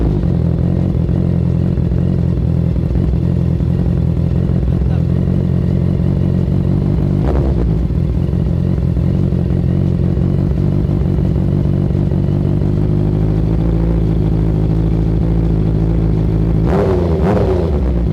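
A 2014 Honda CBR650F motorcycle engine runs at a steady, loud idle with a dense mechanical hum and clatter, broken by a couple of sharp revs that rise and fall quickly.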